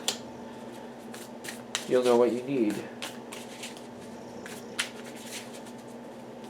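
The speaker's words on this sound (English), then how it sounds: "hopefully I'm done shuffling all the cards" Tarot cards shuffled by hand in a brief riffling burst near the start, then lighter handling sounds, under a person talking quietly over a steady low hum.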